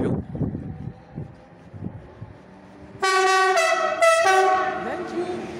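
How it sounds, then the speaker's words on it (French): A passing train at Maisons-Alfort station blasts its horn, a loud sustained two-tone honk that breaks off briefly and resumes, following a few seconds of low rumbling and scattered station noise. "il a klaxonné"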